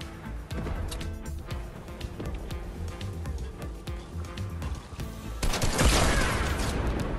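Henchmen blasting rocket and pumpkin launchers in a Fortnite match, a dense run of sharp gunfire-like bangs and booms, loud and close, swelling into a heavier burst of explosions near the end.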